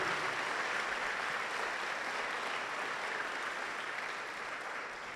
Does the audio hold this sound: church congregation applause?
yes